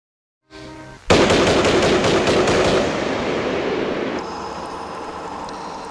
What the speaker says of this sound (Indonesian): Kemudian Akiyoko langsung melepaskan tembakan dan pas mengenai Onishi dan Najia.